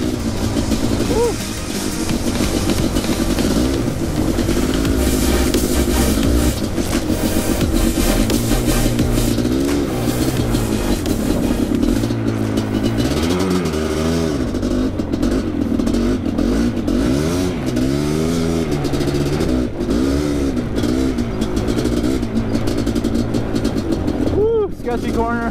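A Suzuki LT500 Quadzilla ATV ridden on sand dunes, its engine droning loud and steady with rising and falling revs through jumps and corners, heavy wind rumble throughout.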